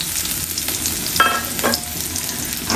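Sliced onions frying in hot oil in a pan for drumstick leaf (sajna pata) bhaji, a steady close sizzle broken by a few sharper crackles and stirring scrapes, with no talk.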